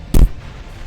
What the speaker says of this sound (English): That's the sound of the shotgun.